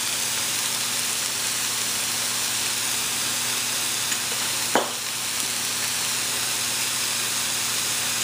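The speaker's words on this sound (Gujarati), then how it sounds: "જ્યાર સુધી આપણું આ સ્ટર ફ્રાય થાય છે" Steady, loud sizzle of chicken stir-frying in a hot pan, a continuous hiss with a brief clatter of stirring partway through and no talking.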